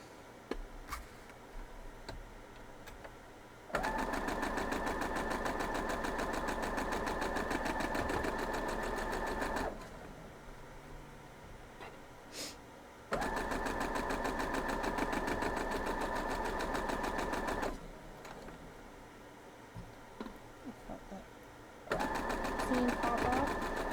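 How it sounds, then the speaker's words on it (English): Sewing machine stitching a quilt block, running in two long steady bursts of rapid mechanical whirring separated by quieter pauses with faint handling noises, then starting again at the end. "Let's sew the other side."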